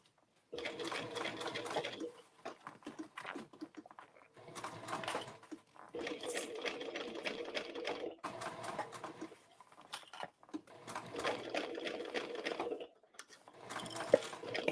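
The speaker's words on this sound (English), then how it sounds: "So I'm sewing this just under 6 mil, so it's just on the inside of my stitching" A sewing machine stitches binding near the edge of a small circle bag in bursts of steady rapid running, starting and stopping several times with short pauses between.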